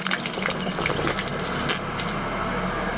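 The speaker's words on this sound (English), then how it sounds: "So let me check this tap, whether it has water." Water gushes steadily from an outdoor tap near road construction work, a continuous close splashing flow, alone with no voices.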